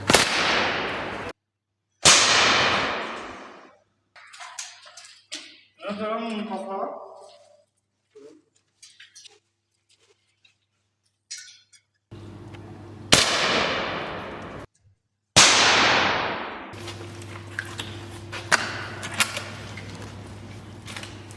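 Airsoft guns fired at a target during a shooting test, a few loud, sharp single shots spaced seconds apart, each with a short ringing tail, alternating with someone talking in the gaps and some mechanical clicks.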